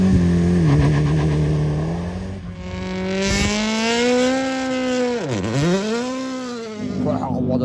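A Dakar rally car's engine roars loud and close at the Goodwood Festival of Speed, revving up and down in sweeping pitch swells with a deep throaty drone throughout.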